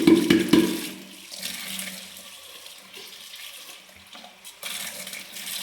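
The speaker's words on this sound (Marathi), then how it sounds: "हे पूर्ण अशा पद्धतीचा हा पूर्ण स्पंज धुवायचा आहे" Water gushes and splashes as a water purifier's sponge filter is rinsed, starting with a loud burst of flowing water that settles into a steadier trickle and swish, close by with no talk.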